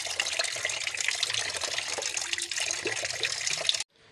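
Running tap water pours over boiled bullfrog being washed in a sink, a steady close splashing rush with uneven spatter that stops abruptly near the end.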